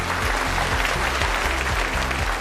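An audience claps steadily at a televised cosmetic surgery competition, dense, continuous applause over a pulsing musical beat.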